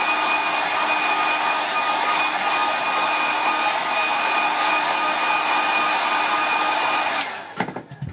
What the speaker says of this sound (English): So what I might do is give it a quick dry first